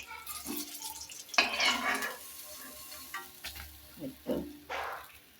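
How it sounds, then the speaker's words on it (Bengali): Fish pieces fry in oil in a village kitchen pan, with quiet sizzling broken by several bursts of stirring and scraping and a few utensil knocks, close and moderately soft. "আমি আজকে আরো বাবার জন্য আর মাছ ভুনা করতেছি"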